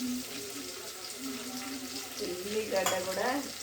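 Sliced onions sizzle softly in a hot pan with green chillies, with stirring scrapes throughout, growing slightly busier toward the end.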